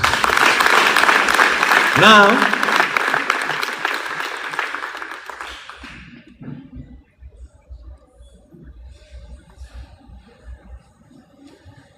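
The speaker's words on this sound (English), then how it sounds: "Clap hands for Jesus." Congregation clapping hands at a church service: loud, dense clapping mixed with a voice for the first half, then fading out abruptly into quiet low rumble and scattered faint sounds.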